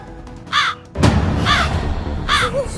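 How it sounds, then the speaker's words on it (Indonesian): A crow caws three times at a steady pace, loud and close, with a thump and background rustle between calls. "Itu burung gagak."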